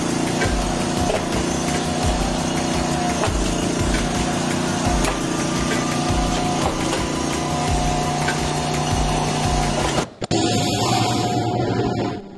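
A firewood splitting machine runs with a loud, steady engine drone and repeated thumping and cracking as wood is split, continuous and close, with a sudden change in sound near the end.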